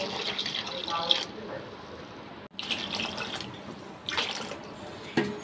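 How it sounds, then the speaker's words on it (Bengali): Water is poured into a cooking pot on a stove, giving a close splashing, running-liquid sound in a few bursts with brief pauses between them, and a voice talks over part of it. "পানি দিয়ে দিই।"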